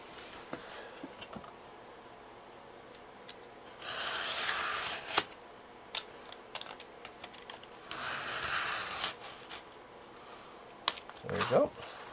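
Cardboard being cut while packing license plates for shipment, soft rasping slices in two longer bursts among small taps and rustles, close and quiet.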